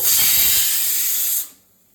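A pressure cooker boiling mutton releases a loud, sharp hiss of steam for about a second and a half before cutting off abruptly, leaving near silence.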